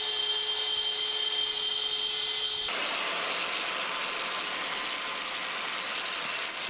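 A diamond tip blade cuts galvanized steel for a trailer build. It gives a loud, close, continuous high-pitched grinding whine, and the pitch and texture shift abruptly partway through as the blade bites into the metal.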